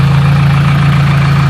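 Hyundai Tiburon engine idling up close, a loud, even low hum with a steady pulsing rhythm and nothing else over it.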